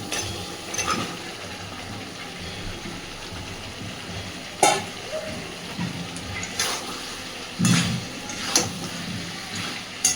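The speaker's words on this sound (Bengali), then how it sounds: "একই সাথে ভেজে রাখা আলু আর ফুলকপিটাও দিয়ে দিচ্ছি কারণ অলরেডি মশলা দিয়ে তেল বেরোতে শুরু করেছে" Pre-fried potatoes and cauliflower added to hot spiced oil, sizzling and frying steadily, with sharp scraping and stirring clatters recurring every second or two, close up.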